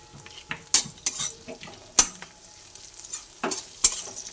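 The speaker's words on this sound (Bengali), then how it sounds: "হলুদ গুঁড়ো দিয়ে আর একটু ভালোভাবে নাড়াচাড়া করে নিই" Turmeric powder stirred in a frying pan: a soft sizzle under sharp, irregular scrapes and clanks of a spatula on the pan, close up and without talk.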